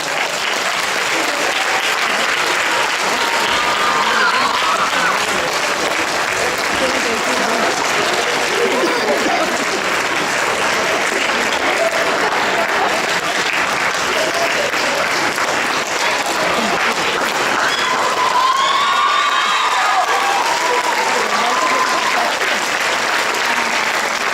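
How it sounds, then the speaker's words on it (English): Sustained, loud audience applause and cheering at an inter-school Shakespeare drama competition awards ceremony, steady clapping with occasional whoops and shouts rising above it throughout. "Let's continue this applause, ladies and gentlemen"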